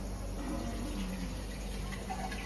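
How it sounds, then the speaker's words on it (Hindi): Water pours into a pot of rajma curry being cooked in a home kitchen. It makes a soft, steady, faint trickling stream that runs evenly without pause. "थोड़ा सा और डालेगा इसमें पानी"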